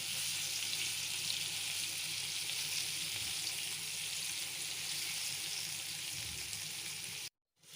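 Buckwheat patties with minced meat sizzle steadily in a frying pan, a dense continuous crackle with a couple of soft low bumps, close and fairly quiet, cutting off abruptly near the end.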